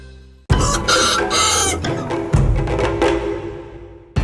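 Dong Tao dragon chickens from Vietnam clucking and squawking loudly at close range, a burst of overlapping hen calls and a short crow-like cry, busy and repeated across the few seconds.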